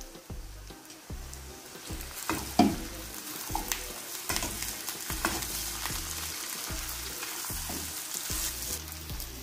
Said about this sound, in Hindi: अब मैं इसके अंदर प्याज ऐड कर दूंगी